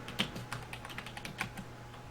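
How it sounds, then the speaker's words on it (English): Someone types on a computer keyboard, a quick irregular run of close, crisp key clicks with a few louder strikes, heard alone without talk. "it's Stoutman typing"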